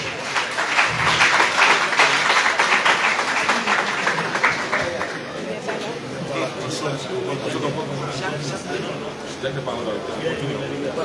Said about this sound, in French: Est-ce que nous pouvons l'accueillir avec des applaudissements?